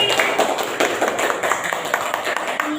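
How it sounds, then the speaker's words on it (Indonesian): Schoolchildren in a primary classroom clap for a classmate, a quick, rhythmic patter of claps at moderate volume that fills the short stretch. "Tepuk tangan buat Indri"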